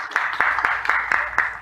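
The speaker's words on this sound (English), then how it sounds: "I would first give a round of applause for them to share this information" An audience at a foundry industry presentation applauds in a short burst of clapping. The claps are fairly loud and come in a quick, steady rhythm close by.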